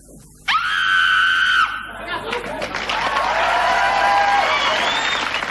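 A Christmas prop lets out a loud, sustained scream lasting about a second, followed by audience laughter and applause at a 1997 comedy panel show.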